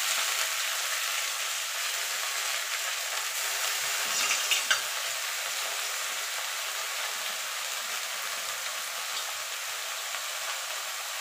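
Red amaranth greens hit a hot pan with lightly fried garlic for Bengali lal shak bhaja, producing a steady, close sizzle that runs the whole time, with a brief stirring clatter midway.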